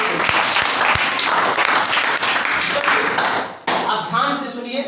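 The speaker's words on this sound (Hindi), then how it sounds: "जोरदार ताली बजाइए अनु कुमारी को" An audience applauding Anu Kumari at a quiz show, several seconds of brisk clapping with a few sharp individual claps, then a voice speaking at the end.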